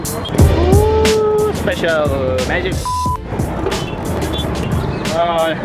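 Busy festival-night street traffic near Mysore Palace during Dasara, with cars and motorbikes rumbling past and scattered horn honks, close and continuous, with people talking over the din.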